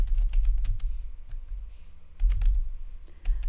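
Code is typed on a computer keyboard in quick bursts of close, crisp key clicks. A short pause falls between two flurries, and no one speaks.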